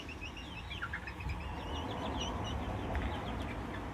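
Soft, rapid clucks and chirps from several chickens in a chicken run under a constant rumbling background noise, low and somewhat distant.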